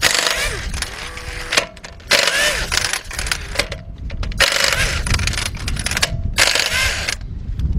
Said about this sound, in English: So I got a 17mm deep 1/2-inch drive with my 1/2-inch drive air gun, and we're gonna take all of them.